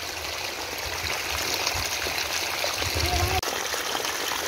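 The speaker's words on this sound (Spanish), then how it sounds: "acá está cayendo el agua como unas cataratas" Water pours down a farm irrigation channel like a small waterfall, making a continuous close, dense rushing and gushing that stays steady throughout.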